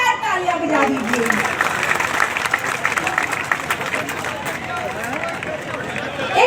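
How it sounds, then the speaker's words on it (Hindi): A crowd at an outdoor election rally applauds for soldiers and martyrs, a loose patter of clapping under crowd noise and a speaker's amplified voice. "हमारे फौजी भाइयों के लिए, हमारे शहीदों के लिए जोरदार तालियां बजा दीजिए"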